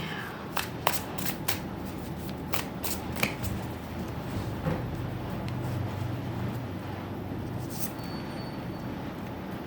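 Tarot cards being shuffled by hand in a quiet room, a run of crisp riffling flicks and short slaps in the first few seconds, then softer faint rustling over low background hum.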